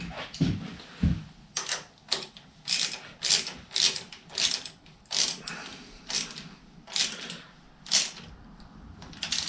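Ratchet clicking in a steady run of about a dozen short bursts as a bolt is tightened on the front end of an XS1B motorcycle, close and fairly loud, with a couple of duller knocks at the start.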